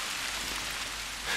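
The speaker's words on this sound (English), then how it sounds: "Oh no, it starts to rain." Rain beginning to fall in the hunting game theHunter: Call of the Wild, a brief, even hiss of drops, fairly loud and alone, with no speech.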